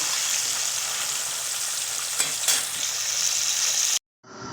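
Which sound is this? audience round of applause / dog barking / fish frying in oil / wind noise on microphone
fish frying in oil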